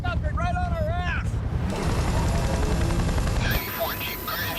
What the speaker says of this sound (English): There's a helicopter right on our ass!